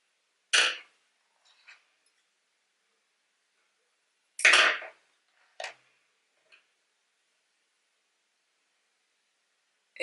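Scissors snipping crochet yarn, a few sharp isolated clicks spaced apart in a quiet room, each cut close and crisp with silence between.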